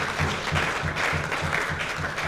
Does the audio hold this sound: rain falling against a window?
no